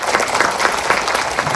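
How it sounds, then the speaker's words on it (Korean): Dense, steady applause from a seated audience at an education administration forum debate, welcoming the session moderator; continuous clapping with no pauses. "백성열 과장님을 큰 박수로 모시겠습니다"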